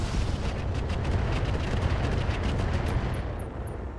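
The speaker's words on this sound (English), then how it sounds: "I do think that I want to fire the Bolt-on Eye Rocket" A Bolt-on rocket fires in the BattleTech mod RogueTech, a dense, roaring blast of rumbling noise that fills the whole moment at steady loudness before easing off slightly.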